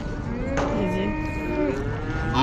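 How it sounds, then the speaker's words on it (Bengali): A cow inside a vehicle lets out one long, loud, low moo that bends in pitch, close by over a steady rumble of road and engine noise. "গাড়ির মধ্যে গরু আছে।"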